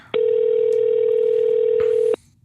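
A single steady electronic telephone tone holds for about two seconds, loud and close, then cuts off abruptly.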